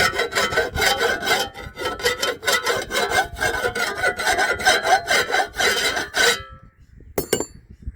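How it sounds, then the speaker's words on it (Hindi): A steel file rasps rhythmically over a tool blade being sharpened for uprooting a tree, close and loud, with fast repeated strokes for about six seconds before stopping, then one brief scrape near the end. "इसको भी रेती लगा रहे हैं।"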